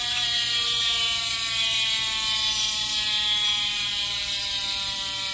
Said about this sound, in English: we're gonna do a sound check on these DT 180s.